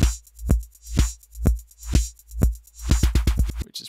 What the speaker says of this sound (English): now we have the loop playing forwards and backwards